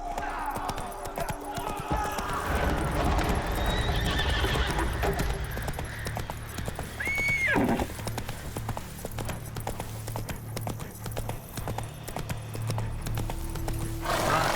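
Roach, a horse in The Witcher 3, whinnies once clearly mid-scene while hooves clip-clop steadily throughout, set against a busy game backdrop with background music and scattered voices.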